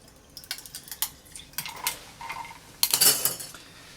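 Ice cubes clinking into a glass and being wetted for a black and white absinthe cocktail, a run of bright close clinks and rattles followed by a louder splashing clatter near the end.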